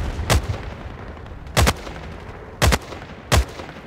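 Rifle gunfire in the video game Battlefield Play4Free: four loud, close, punchy shots spaced about a second apart, each a short booming crack over quiet game background.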